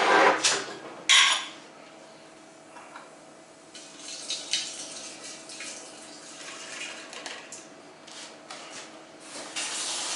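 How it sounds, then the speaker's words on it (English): Yeast mixture is poured into a carboy without a funnel, giving bursts of splashing liquid at the start followed by quieter, uneven trickling and occasional surges over about ten seconds, no one speaking. "I'm going to put the yeast mixture into the carboy."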